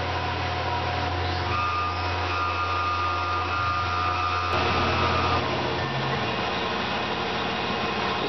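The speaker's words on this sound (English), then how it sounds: "cutting a slot at 5/8 of an inch deep" Tormach PCNC 1100 CNC mill running a 1/8 inch end mill through a slot 5/8 inch deep, a steady machine whine and hum with tonal layers that shift midway as the cut progresses, close and continuous with no talk.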